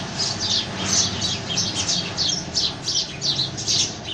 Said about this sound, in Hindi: चिड़ियाँ शोर मचा रही हैं बहुत।